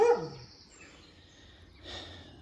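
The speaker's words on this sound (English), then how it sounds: "The dog's left me alone, by the way, now. Wasn't very happy, but he's gone." A dog barks outdoors during a metal-detecting hunt in the UK, one sharp close bark at the start and then a fainter second bark near the end.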